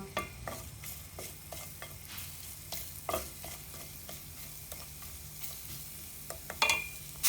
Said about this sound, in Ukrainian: І все гарненько перемішуємо.